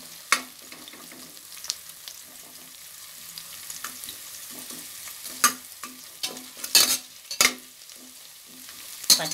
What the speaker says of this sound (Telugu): కొంచెం వేగాక అల్లం వెల్లుల్లి పేస్ట్ వేయాలండి.